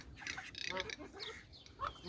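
Ducks in a breeding pen, with a short burst of quacking and other soft bird calls close by against a quiet farmyard background.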